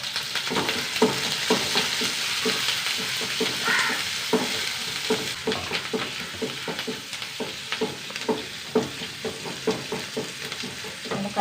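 Dried red chillies and curry leaves frying in a pan of oil, a continuous close sizzle punctuated by a steady run of quick stirring scrapes and taps, no one speaking.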